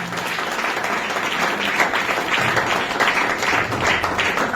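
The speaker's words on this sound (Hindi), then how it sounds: "जोरदार ताली बजाएंगे प्रभु यीशु के लिए।" A church congregation claps loudly and steadily for Jesus during a worship service, a dense, continuous wash of applause filling the room with no speaking over it.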